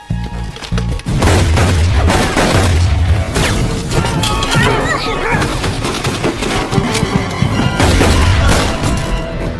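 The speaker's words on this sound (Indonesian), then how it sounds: "setelah main tembak-tembakan" Gunfire and crashing impacts ring out in a chaotic shootout from the 2007 action film Rush Hour 3, loud bangs layered over dense music and effects throughout.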